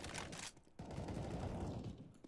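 Rapid shotgun blasts from an SG shotgun ring out in a video game firefight, loud overlapping bursts in quick succession with a brief gap before another barrage.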